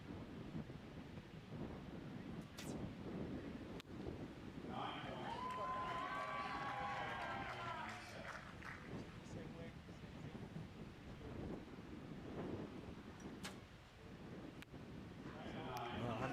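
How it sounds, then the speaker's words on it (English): Wind gusts around an outdoor archery arena at a world championship, a steady rushing buffet over the microphone throughout, with a voice talking over it and a few sharp distant clicks. "We've got that bit of wind, haven't we, blowing around"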